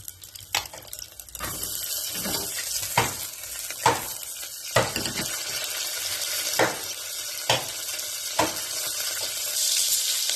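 Garlic, cumin and green chillies fry in a pan with a constant sizzle, punctuated by repeated sharp scraping stirs at a fairly regular rhythm.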